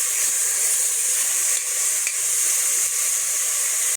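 Onion sautés in hot oil in a pan before minced meat is added for hawawshi. A dense, steady sizzle runs throughout, close up, with faint soft stirring knocks underneath and no speech.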